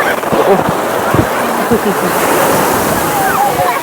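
Rough sea surf surging and washing in close by at a shoreline during preparations for the Koliyak Nishkalank Mahadev fair, a continuous loud roar with voices faintly over it.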